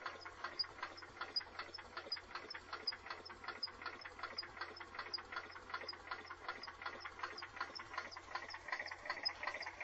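Sears SS14 engine being cranked over for a cold start after sitting three weeks: a fast, steady, rhythmic chugging and knocking with a rattly mechanical clatter that runs evenly throughout at moderate, close-up level.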